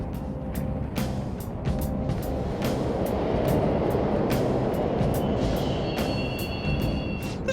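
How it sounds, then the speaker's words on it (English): Subway trains rumbling through an underground station in the video game Persona 5 Royal, a steady low roar with rattling clatter and faint high squeals, continuous and fairly loud with no talking. "The trains are totally running!"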